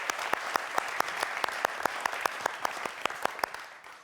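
Applause from a conference audience at a plenary opening, dense and steady, with sharp individual claps standing out. It carries on evenly for about four seconds and fades at the end.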